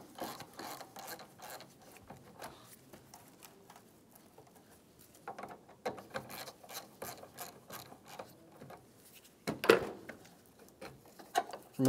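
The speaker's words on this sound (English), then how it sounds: "Using a 10 millimeter socket, remove the negative battery cable." Socket ratchet loosening the negative battery cable nut on a 2013-2017 Honda Accord: quick runs of faint clicking pawl ticks in bursts, close and quiet, with a few louder metallic knocks near the end.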